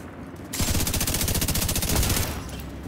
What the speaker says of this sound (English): Automated turrets detected.